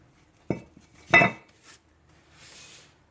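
Metal clanks as a brake rotor comes off a 2002-2006 Nissan Altima: two sharp clinks close together, then a light scrape and a faint hiss, close and moderately loud, with no talking.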